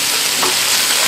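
Yakisoba frying in a stainless steel pot gives a steady, close hiss of sizzling with a brief stir partway through, and no talking.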